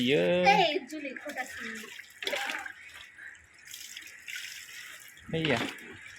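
A puppy is bathed at home with hot water, splashing and running water heard between bursts of nearby talking voices.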